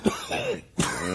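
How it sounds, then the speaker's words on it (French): Two short, harsh coughs come from a patient during a doctor's examination in a 1955 French stage play, close and clear, separated by a brief pause. "Toussez, franchement."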